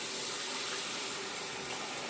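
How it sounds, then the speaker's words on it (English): Hot water runs steadily from a tap into a sink while shaving brushes are prepared, a continuous close hiss and splash with no talking over it. "I'm going to run a little bit of hot water here just to dip the tips of the"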